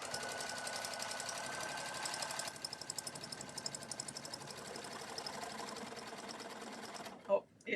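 A sewing machine runs during free motion quilting, its fast, even mechanical chatter close and steady, then shifting to a slower, pulsing stitch rhythm before stopping abruptly near the end, with a voice briefly heard.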